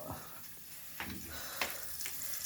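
Broccoli cooks in a home kitchen pan, giving a soft steady sizzle with a few brief clinks and stirring scrapes, fairly quiet and with no voices.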